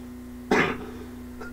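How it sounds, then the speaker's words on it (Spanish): A single sharp cough sounds close up, followed by a softer short cough a moment later, over a steady low electrical hum. "perdonen por verme toser"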